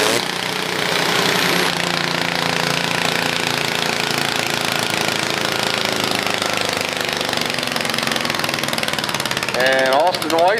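An open-class diesel garden tractor at a county fair tractor pull roars steadily and loudly for the whole stretch with a rough, pounding tone. A voice is faintly audible beneath the engine noise, and a rising rev comes near the end.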